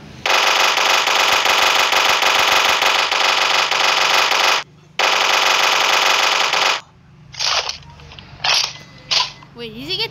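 A minigun in the Block City Wars video game fires in long, loud, continuous rattling bursts with a brief pause, then trails off into scattered shorter shots and clicks.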